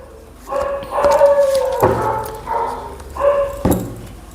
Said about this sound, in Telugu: ఈ డాగ్స్ చూడు ఎలా శబ్దాలు చేస్తున్నాయో